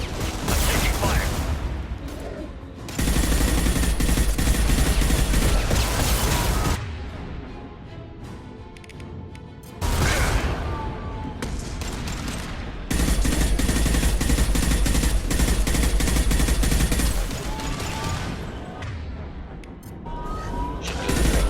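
Sustained combat gunfire in Mass Effect 2, long bursts of rapid automatic shooting broken by brief lulls, loud and dense with occasional booms, and voices speaking over it at times.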